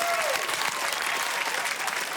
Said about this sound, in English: Everybody, big round of applause for the gorgeous Hallie.